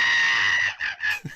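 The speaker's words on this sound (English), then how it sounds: "I love Mitch when he's just in full screaming mode" A puppet monkey shrieks in a Supercar TV episode, a loud, shrill, sustained scream that breaks briefly near the end and then resumes, with no talking over it.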